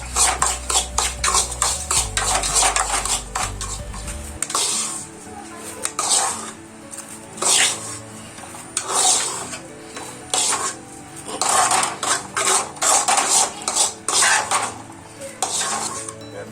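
Metal utensil scraping and clanking against a pan in steady, repeated stirring strokes over medium heat while roasting for Kerala kesari, with a faint sizzle underneath; close and fairly loud, no talking.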